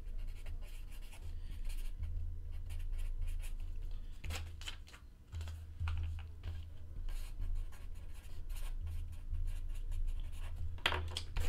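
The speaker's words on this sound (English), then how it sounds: "Write these down really quick so I don't mix them up." Pen scratching on paper as baseball card details are noted down, steady close writing strokes with brief pauses and a few sharper scrapes, no talking.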